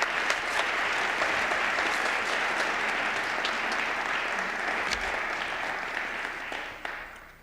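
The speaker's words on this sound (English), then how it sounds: "So let's give another round of applause to Eleanor." Steady, full applause from the audience at a county arts and humanities awards ceremony, honoring Eleanor, holding level for several seconds before fading out.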